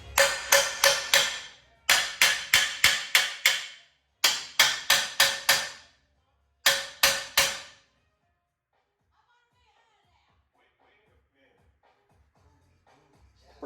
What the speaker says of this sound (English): Actually, let's get a hammer.